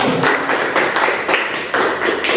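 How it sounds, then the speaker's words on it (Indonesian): Classroom applause, a group of students clapping in short rhythmic bursts that rise and fall several times over a couple of seconds, close and fairly loud with no talking. "Mari kita berikan aplaus."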